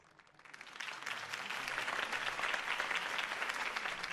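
In the Batman: The Telltale Series video game, a campaign-rally crowd breaks into applause that starts softly and builds within half a second into steady, full clapping that holds to the end.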